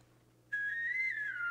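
A clear, sustained whistled melody from a music video starts abruptly after a brief quiet moment and holds steady at moderate loudness.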